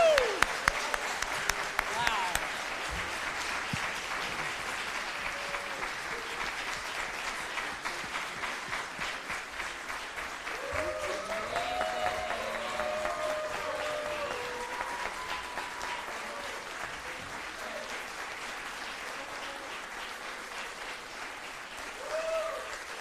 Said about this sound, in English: We can continue the applause.